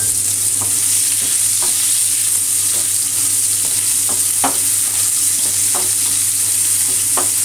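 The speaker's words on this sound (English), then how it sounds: "we're going to put the courgettes directly into the hot pan" Courgettes hit a hot non-stick frying pan for an Italian frittata, giving a steady close sizzle with occasional stirring scrapes and clicks throughout, no voices.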